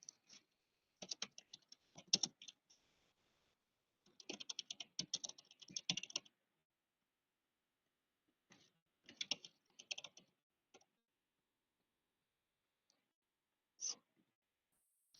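Bursts of typing on a computer keyboard, quick clusters of key clicks separated by pauses and a lone stray tap near the end, fairly close and with no talk.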